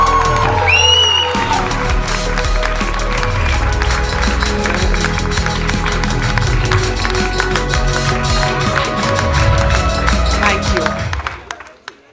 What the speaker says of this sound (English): I want to hear the hall burst with applause.